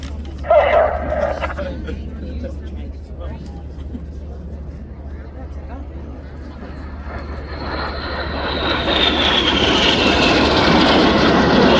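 Red Arrows jets at an air display roar steadily in the distance, swelling louder and rising in pitch toward the end as they pass overhead in a manoeuvre.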